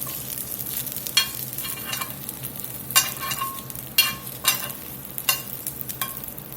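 Asparagus seasoned with thyme and rosemary sizzles steadily in a pan, a continuous frying hiss broken by several sharp scraping or stirring clicks, with no talking.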